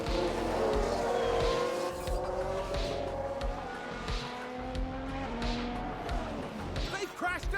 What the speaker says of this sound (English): They've crashed out!